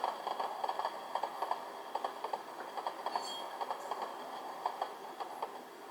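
Rhythmic clickety-clack from an Athearn Genesis ATSF model caboose with a DCC sound decoder, the clickety-clack volume turned to maximum, repeating steadily and fairly faint over a constant rolling background hiss.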